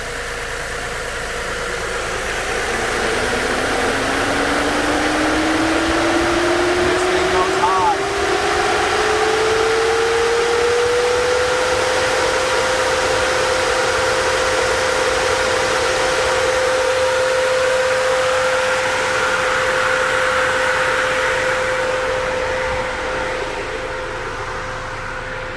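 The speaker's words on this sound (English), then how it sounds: "And my fan starts to spin up." Aftermarket electric cooling fan kit on a Toyota Tacoma spinning up, a rising whine that climbs in pitch over about ten seconds and then holds steady, loud and close over a constant engine-bay hum.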